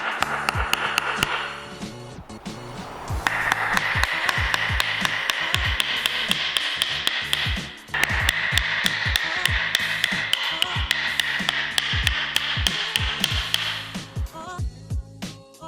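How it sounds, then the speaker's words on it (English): A new handle is smacked onto a knife tang at its base, a long run of sharp, loud, evenly spaced taps that stays steady for the full stretch, then slows to a few separate knocks at the end. "give some good smacks on the base here just to set the new handle in"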